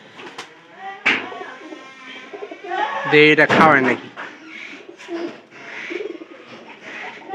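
Pigeon squabs call for food in a nest with adult pigeons nearby: soft coos and a burst of squeaky, pleading calls in the middle, mostly under a man's close speech.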